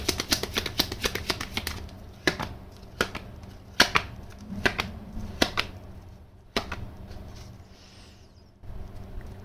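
Tarot cards being shuffled up close, a run of quick crisp riffling flicks and taps in bursts with pauses between, fairly quiet and without talk.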